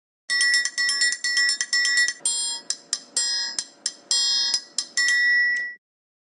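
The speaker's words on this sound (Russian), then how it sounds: "Треугольник." A triangle is struck again and again, bright metallic rings clipped off in quick succession with some rapid rolling hits, ending in one longer sustained ring that fades into silence.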